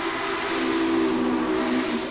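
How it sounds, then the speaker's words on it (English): A steam locomotive whistle in the Railway Empire video game, set in Mexico, blows one steady, sustained tone for about two seconds at full strength, with a breathy hiss of steam running beneath it. "They've done a really nice job with the whistles on this"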